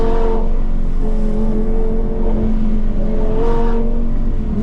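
An Audi R8 V10 Plus engine roars continuously, revving up and climbing in pitch twice as it accelerates on an alpine road, loud and close.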